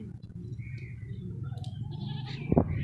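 A clean, healthy dairy goat at a livestock sale bleats once, briefly and close, toward the end, over a steady background of rustling and low murmuring.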